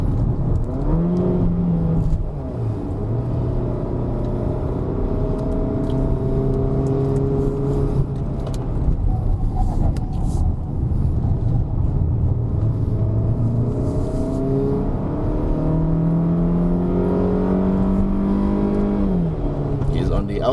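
A Peugeot 3008 SUV with an automatic gearbox accelerating on a test drive, its engine note climbing in several rising sweeps that drop back as it changes up, heard steadily from inside the cabin.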